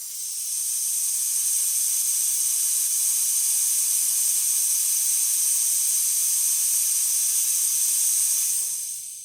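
Steady, loud, high hiss from the steam wand of a Breville BES920XL espresso machine, running continuously for several seconds and close up, then trailing off at the end, with no talk.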